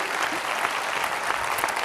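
A seated audience at an engineering awards ceremony applauds two prize winners, a steady dense wash of clapping that is loud and continuous throughout with no voices on top.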